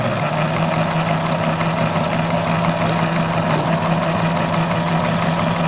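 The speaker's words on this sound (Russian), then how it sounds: "Вот он крутится и плетет веревку." A homemade rope-making rig twists and braids rope from video cassette tape, giving a steady, continuous motorized hum with a low tonal drone throughout, close and even in level with no talking.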